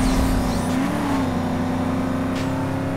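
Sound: Lamborghini Urus engine roaring in video game NFS Most Wanted

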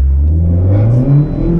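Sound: Lada Granta sleeper car launching with wheelspin on summer tyres

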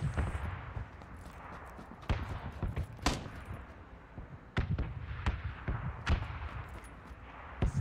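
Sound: gunfire in the video game PUBG

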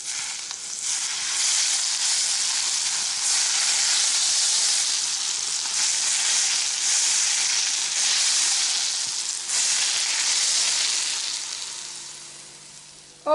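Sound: hot oil sizzling poured on vegetables

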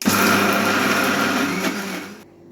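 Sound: mixer grinder grinding dosa batter ingredients

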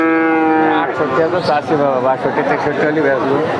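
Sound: cattle mooing at a cow market

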